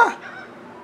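Ducks or similar fowl at a Bangkok zoo give one loud honking quack up close, with a softer tail of bird calls and background noise after it.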